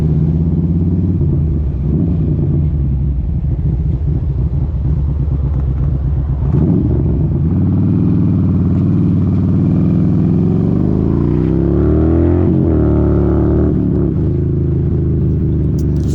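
A motorcycle engine runs loud and close throughout, a steady rumbling idle with throttle swells that rise and ease back, no voices over it.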